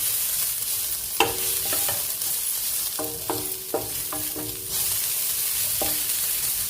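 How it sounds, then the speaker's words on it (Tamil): Grated coconut roasts in a hot kadai with the stove switched off. A metal spatula scrapes and clinks against the pan, and some strokes ring out, over a constant soft sizzle with no talking. "இந்த கடாய் தூள்லேயே தேங்காய் நல்லா வறுபட்டுடும்"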